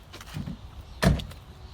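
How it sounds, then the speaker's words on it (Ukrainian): A car door shuts with a single firm thud near the end, preceded by softer rustling and handling sounds close by, with no voices. "Двері закрийте."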